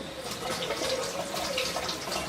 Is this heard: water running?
yes